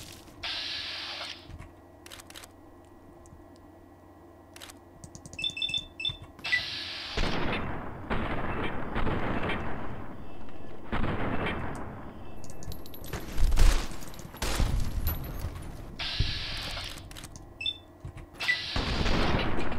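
Gunfire in Fallout: New Vegas: loud, dense bursts of rapid shots and heavy blasts crowd the middle, broken by quieter gaps and single sharp reports toward the end.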